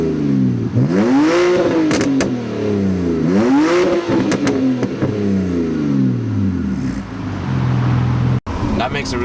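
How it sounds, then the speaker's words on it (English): A 2008 BMW 128i with a muffler delete and quad tips revs loudly up and down twice in quick succession, then settles into a rough idle rumble with a brief cut near the end. "it's very fun to just throw it into the higher RPMs and just watch as the engine screams down the road"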